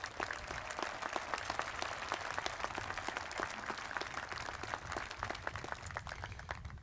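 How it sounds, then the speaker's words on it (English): Applause from the crowd at Wabash College's commencement ceremony, a steady patter of many hands clapping, distinct claps audible but fairly distant and modest in level, without any talking. "Can you give them a round of applause, please?"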